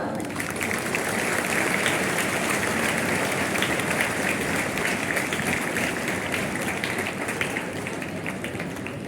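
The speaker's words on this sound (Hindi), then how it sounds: "जोरदार तालियां।" An Independence Day school audience claps loudly, a thick continuous wash of hand claps that stays strong across nine seconds.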